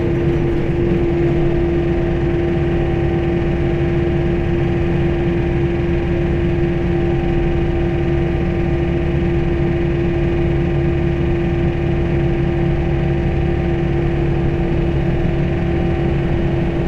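A John Deere 4052R compact tractor runs steadily with an inverted snowblower attached, a loud, continuous engine drone and blower whir holding level throughout with no voices.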